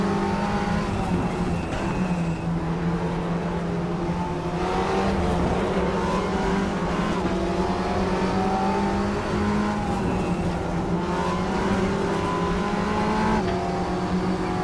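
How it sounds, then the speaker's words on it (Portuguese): Race car engines in RaceRoom Racing roar continuously, their pitch rising and falling as they rev and shift, with faint tire noise and no talking. "O barulho dos carros do Race Room, cara, é muito gostoso."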